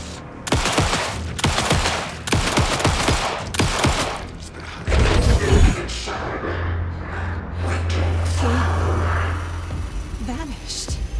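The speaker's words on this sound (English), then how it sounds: "Got that automatic fire" Bursts of automatic gunfire in the horror game Alan Wake 2 on nightmare difficulty, loud rapid volleys in the first half followed by booming impacts and a low droning hum, with someone talking over the action.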